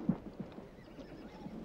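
A horse whinnies faintly in a quiet outdoor riverside setting, a short low snort-like call near the start followed by soft movement sounds, distant and muted with no talk.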